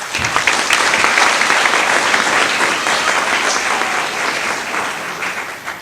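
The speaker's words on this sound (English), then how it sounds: "let's give him a round of applause." A graduation ceremony audience breaks into sustained, dense applause that holds steady and loud for several seconds before tapering slightly at the end.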